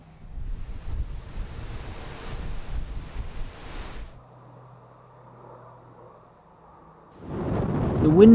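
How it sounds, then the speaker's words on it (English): Strong gusts of wind buffet a boat on the exposed water of the River Avon in Somerset, a loud rushing roar for several seconds that drops to a low hum, then surges back loud and close at the end. "Wind is really beginning to gust quite strongly now, especially on the more exposed water."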